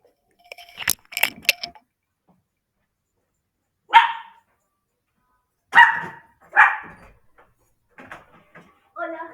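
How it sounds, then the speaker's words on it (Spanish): A small dog barks excitedly at a doorbell, sending out several sharp, loud barks in separate bursts with silent gaps between them, with faint talking toward the end. "están tocando el timbre y mi perrita se está volviendo loca"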